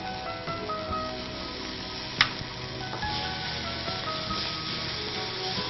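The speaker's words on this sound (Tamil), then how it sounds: "அதுக்கு அடுத்தது இஞ்சி பூண்டு விழுது போட போகிறோம்." Onion, tomato and ginger garlic paste sizzle steadily in a hot pan, a continuous close frying hiss with a brief sharp clink of a spoon partway through.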